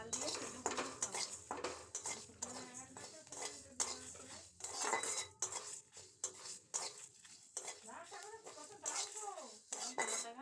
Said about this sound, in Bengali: এবার মশলাটা ভেজে নেব।